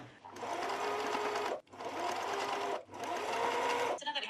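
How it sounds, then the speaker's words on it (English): A sewing machine stitches along a thin folded strip of fabric in three loud, steady runs, each pausing briefly before the motor starts again. "take my very thin piece of fabric, fold it over good sides facing good sides, and just sew the whole way along"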